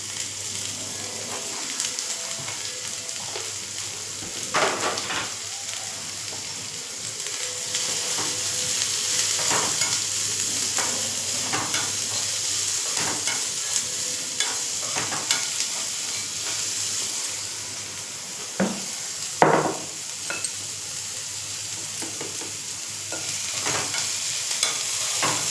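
Onion, green chili, curry leaves and cumin frying in a pan, a low steady sizzle with intermittent stirring scrapes and clinks, close and with no talk.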